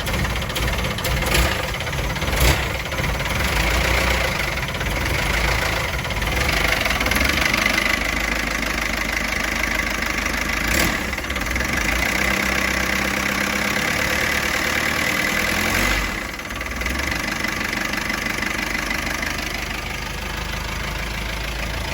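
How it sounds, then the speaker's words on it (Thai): A 1960 Isuzu Elf classic truck engine idles steadily after starting, a continuous low rough knocking rumble close by, set to low revs, with no speech over it. "เครื่องยนต์ก็จะประมาณนี้นะครับ"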